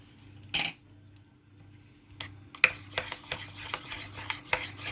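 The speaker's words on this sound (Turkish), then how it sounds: "Bunların hepsini bir güzel karıştırıyorum" A spoon stirs a homemade ice cream mixture with clotted cream in a bowl, meant for a tahini, honey and almond ice cream. Scraping, rasping strokes come in short bursts, close and fairly quiet, with no talk.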